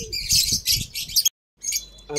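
Loud, harsh bird squawks and chirps in quick bursts, close by, cutting off abruptly before more calls resume.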